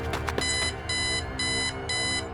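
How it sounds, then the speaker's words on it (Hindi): An alarm clock rings suddenly in an animated horror story, a loud bright electronic ring pulsing in four even bursts over a steady background. "तभी अचानक अलार्म बजा।"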